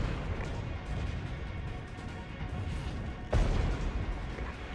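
Counter-battery artillery fire landing on mortar positions in the video game Regiments: low rumbling distant blasts under a continuous battle din, with one sharper, louder impact near the end.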